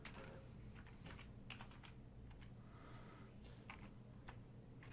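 Computer keyboard typing as a full name is entered into a scholarship application form, with quick, soft key taps clicking in an irregular run, fairly quiet and close, no voice.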